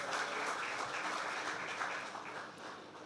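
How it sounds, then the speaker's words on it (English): An audience at an annual conference applauds a distinguished guest speaker, steady clapping from a crowd that fades slightly toward the end. "please another round of applause for our distinguished guest speaker, Dr. the Honorable Ralph E. Gonsalves."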